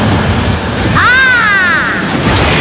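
A cartoon explosion follows an energy palm attack in a GG Bond animated episode: a loud, sustained roaring blast with a warbling tonal sweep rising through the middle.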